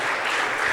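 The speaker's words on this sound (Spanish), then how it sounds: "ustedes se merecen que demos una ofrenda de palmas por su vida" A church congregation applauding together, a brief dense burst of steady clapping from many hands, loud and even, with no talking.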